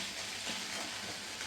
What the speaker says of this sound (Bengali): এখন ঠিকসে আলু ভাজা বানাবে